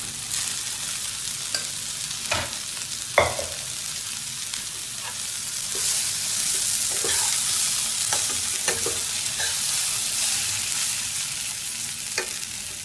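Cooked rice being stirred into a fried egg biryani mixture in a hot pan, with repeated scraping stir strokes over a steady background sizzle, close and moderately loud, no talking.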